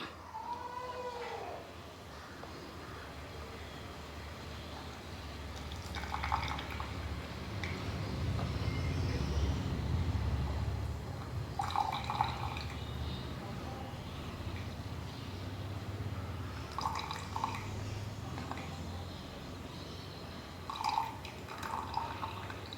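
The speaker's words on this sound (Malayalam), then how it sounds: "ഇനി നമുക്കിത് ചൂടോടുകൂടി തന്നെ ഫിൽറ്റർ ചെയ്തെടുക്കാം" Soft trickling and dripping as hot liquid pours through a strainer, faint and close, with light clinks now and then over a low background hum.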